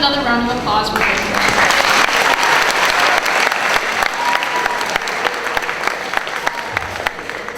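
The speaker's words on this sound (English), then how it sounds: "Let's have another round of applause for Paige." Sustained crowd applause for a senior named Paige at a high school class day ceremony, loud and steady throughout, with faint voices and brief music at the start.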